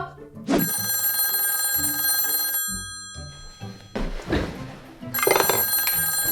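A telephone bell rings in two loud bursts with a pause between, close by indoors, with bumping noises and a brief voice around the gap.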